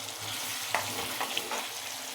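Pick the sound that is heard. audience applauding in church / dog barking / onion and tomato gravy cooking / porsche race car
onion and tomato gravy cooking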